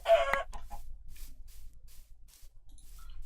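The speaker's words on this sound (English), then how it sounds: "Let's kill a couple of chickens for some food here." Chickens in the Minecraft video game cluck in a short burst at the start, then a few soft scattered clucks follow against near silence.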